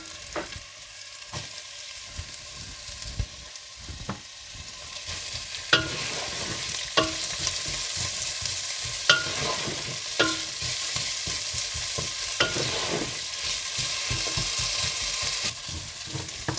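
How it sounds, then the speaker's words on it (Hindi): Onions frying in a pan while being stirred, a steady sizzle throughout with repeated scraping and clinking stir strokes, close and fairly loud, no talking. "और इसके बाद इसमें प्याज डालकर भून लें।"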